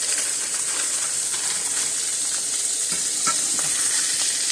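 Steak frying in a pan over high heat, a close, steady loud sizzle and hiss with occasional crackles and pops throughout.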